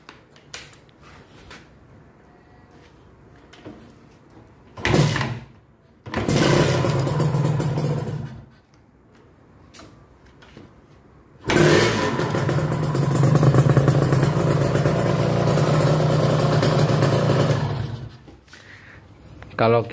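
A small two-stroke motorcycle engine starts and runs in two loud bursts, revving with a buzzing rattle, with quieter pauses and handling noise between them.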